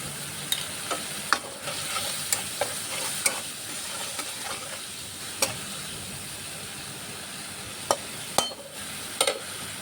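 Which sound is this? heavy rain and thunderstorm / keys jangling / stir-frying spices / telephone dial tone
stir-frying spices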